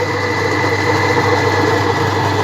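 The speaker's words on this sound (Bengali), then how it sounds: "এই যে ডাল বাটা হচ্ছে" Lentils are ground into paste in a motorised grinding mill, which gives a loud, steady mechanical hum throughout with no break and no voices.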